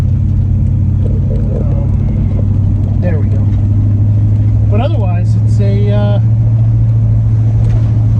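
A 1967 Pontiac GTO, running hot, idles with a steady deep low rumble close by, while someone talks over it and a few brief higher sounds rise near the middle.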